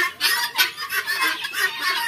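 Chickens on a poultry farm cluck close by, a quick run of short, bright clucks repeating several times in a couple of seconds.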